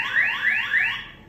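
An electronic alarm sweeps upward in pitch three times in quick succession, a loud rising whoop repeated on a steady rhythm with no other sound around it.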